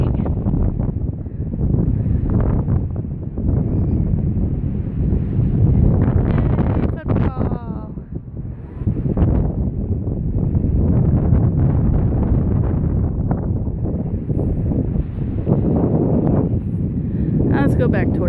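Strong, gusty wind roars in a storm that has downed big branches in a residential Utah street, buffeting the microphone with a constant heavy low rumble while kids play outside nearby.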